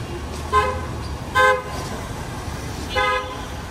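Car horns honk in busy Dhaka street traffic, three separate toots of similar pitch over a low rumble of road noise, loud and fairly close.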